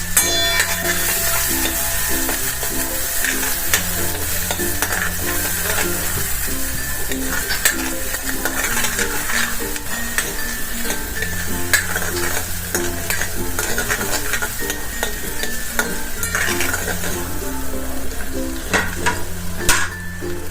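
Chopped onion and cashew-chilli paste sizzle and crackle steadily in a hot pan while a spoon stirs through it, with occasional scrapes, close and fairly loud, and no one speaking.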